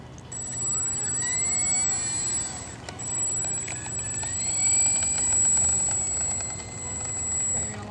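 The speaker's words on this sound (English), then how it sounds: "Now we're ready to take off. Taxiing out." A Mini Apprentice S radio-controlled airplane taxis on a runway, its small electric motor whining at a steady high pitch that rises and falls with throttle changes, close and loud over outdoor background noise.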